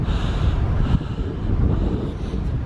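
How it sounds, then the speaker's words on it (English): Strong wind buffets the microphone with a low, rumbling roar that surges and eases continuously in near-freezing weather, close and fairly loud. "It's still bloody windy."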